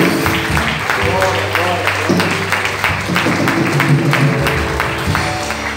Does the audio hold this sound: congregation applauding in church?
yes